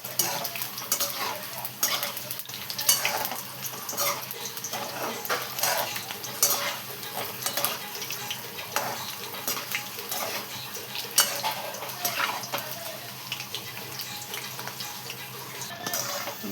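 Bhaji fritters frying in hot oil, a steady close sizzle with scattered crackles and faint scrapes of a utensil stirring in the pan throughout.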